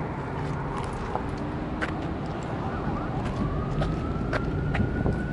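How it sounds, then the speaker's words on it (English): An emergency vehicle siren rises slowly in the distance through steady wind and background rumble, getting gradually louder toward the end as help approaches. "I hear the siren now."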